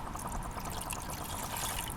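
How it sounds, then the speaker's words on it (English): Water pours steadily into a cup at a lakeside wild camp on Loch Long, a continuous close trickle and splash with no talking. "Put a wee bit more water in there."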